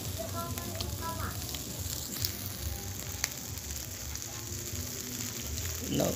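Pork barbecue sizzles on a grill in an even, crackling hiss with a few sharp pops, heard up close with some faint talk in the background.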